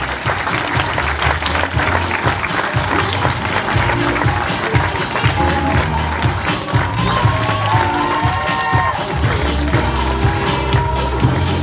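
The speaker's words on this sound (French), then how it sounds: "je vous demande d'applaudir très fort Mademoiselle Ludovica Barrault" Loud, dense applause from a pageant audience at the 2015 Miss 15/17 national election, greeting the Pays de la Loire delegate; steady clapping fills the whole stretch with a faint tonal thread running underneath.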